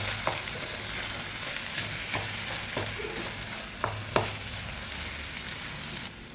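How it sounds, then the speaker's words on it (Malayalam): Samosa masala filling with coriander leaves stirred in a hot pan, a steady soft sizzle with light scraping taps of the spoon now and then, close and continuous, with no talking. "അതുപോലെ തന്നെ കുറച്ച് മല്ലിയിലയും കൂടെ ചേർക്കാം. നല്ലതുപോലെ മിക്സ് ചെയ്തെടുക്കാം."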